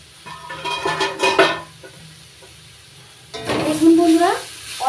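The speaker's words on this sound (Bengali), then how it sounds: "জলটা শুকিয়ে নেব আর একটু ভাজা ভাজা করে ভালো করে ভেজে নেব।" Young radish and green chillies fry in a pan with a spatula, giving two bursts of sizzling and scraping, each lasting about a second or more. A quiet pause separates them.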